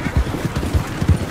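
Horse hooves clip-clopping in the video game Red Dead Redemption 2, a short run of several quick, close, rhythmic thuds.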